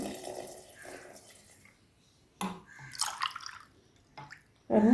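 Water poured into a one-litre can while measuring it out for a homemade citron bio enzyme cleaner: short, close splashes and drips come in separate bursts with quiet gaps between them.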